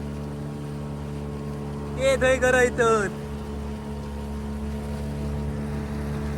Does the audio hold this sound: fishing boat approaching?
yes